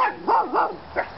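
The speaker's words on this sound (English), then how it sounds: "barking for no reason" Small dachshunds bark close by: three sharp barks in quick succession, with slightly yelping, rising-and-falling tones.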